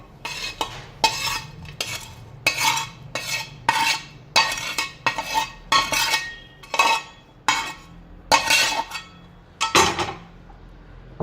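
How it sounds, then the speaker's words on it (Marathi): Boiled potatoes being pounded and mashed in a pan for potato thecha, a steady series of sharp metallic knocks and scrapes from a utensil striking the pan, close and loud, with no talking. "आता यामध्ये आपण बटाटे टाकून घ्यायचे आहे लगेच ठेचायला."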